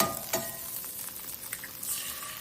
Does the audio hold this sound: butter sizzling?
yes